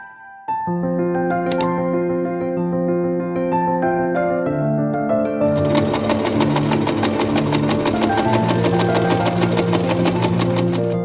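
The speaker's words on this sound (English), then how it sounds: "I sewed the 2 parts together for the back of the dress." A sewing machine stitches two pieces of dress fabric together, starting with a steady mechanical hum that becomes a fast, continuous rattling whir as it speeds up, close and running alone.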